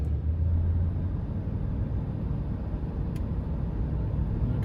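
Steady low road rumble and tyre noise from inside a car driving home from a Utah canyon hike, continuous and even with no talk.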